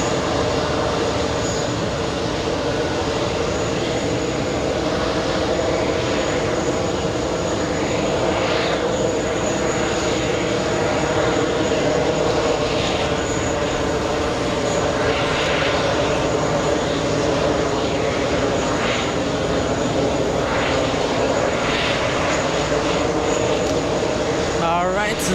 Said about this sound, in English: the Dreamliner slowing down on 4 right